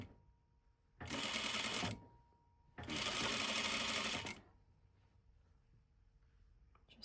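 Sewing machine sewing a dress slit at a stitch length of about 3, running in two close, loud bursts of rapid whirring stitches separated by a short pause, then falling silent, with no talking.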